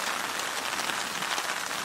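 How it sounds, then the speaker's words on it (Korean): Heavy rain pours down during a thunderstorm at a palm-shaded campsite in Florida, a dense, steady hiss of drops drumming on surfaces, close and continuous with no voices. "비가 멈출 줄 알았는데 또 와가지고 지금 번개치고 난리예요"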